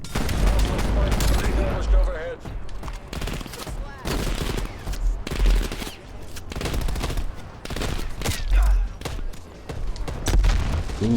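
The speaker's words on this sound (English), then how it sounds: "Who's shooting and where?" Dense video game gunfire fills the stretch, bursts of automatic fire and heavy booming shots overlapping continuously at close range, with a player talking over the shooting.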